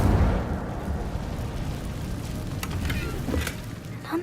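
Incendio fire spell cast in Hogwarts Legacy inside a cave: a loud fiery rushing burst at the start that settles into a sustained crackling roar, with a few sharp pops near the end.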